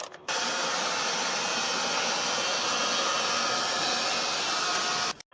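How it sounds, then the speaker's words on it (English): A hairdryer blows a steady, loud whooshing stream of air to dry surfaces during an Indesit washing machine bearing replacement, switching on abruptly and running without pause until it cuts off about five seconds later. "we'll use a hairdryer to thoroughly dry the surfaces that will be glued together"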